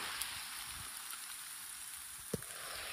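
Raindrops landing on a camera in El Yunque rainforest, Puerto Rico: a faint, steady wet hiss with a few soft, irregular drop taps, one sharper hit near the end. No one speaks.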